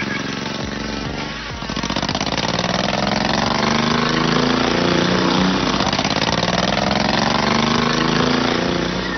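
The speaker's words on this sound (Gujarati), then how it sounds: "આજે ફૂલ સ્પીડે દોડતી રેસ કાર જોઈ રહ્યા છો" The engine of a homemade race car, built in a village in Babra taluka of Amreli district, starts up and then runs steadily with a close, buzzing mid-pitched drone that rises slightly as it settles. Faint voices sit beneath it.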